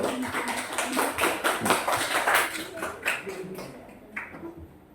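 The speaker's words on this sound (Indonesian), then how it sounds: "tepuk tangan buat kelompok 2" A classroom group applauds, with many hands clapping in an uneven flurry that rises and then thins out over about five seconds.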